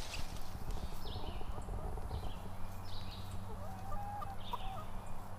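Chickens under a pine tree give scattered clucks and short calls, moderately close, over steady outdoor background noise.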